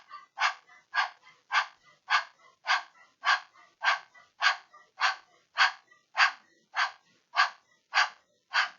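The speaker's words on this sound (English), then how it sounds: "it's like you're panting like a dog." Rapid, evenly spaced panting breaths through an open mouth with the tongue out, done as a Kundalini yoga breathing exercise; about sixteen sharp, breathy bursts in a steady rhythm, close and clear with no talking.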